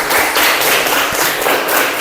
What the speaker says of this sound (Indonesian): berikan aplausnya untuk Alda. Tepuk tangan.